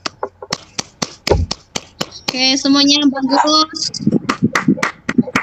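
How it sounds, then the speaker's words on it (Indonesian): A kayak-paddling class claps together briefly, sharp handclaps in a short burst, with a teacher speaking over and after them and a few scattered taps around the talk. "Semua tepuk tangan dulu"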